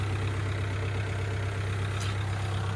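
A car engine, M43B16 unit 8J540, idles steadily with a constant low hum and no changes in pace, close and continuous with no talking.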